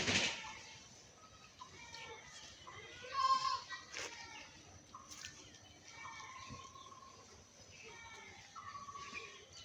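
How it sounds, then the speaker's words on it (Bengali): Goats eat grass gathered from a potato field and give faint bleats here and there, quiet and close, with people talking intermittently and birds in the background. "আমার আলু ক্ষেতের ঘাস ছাগলরা এনে দিছি"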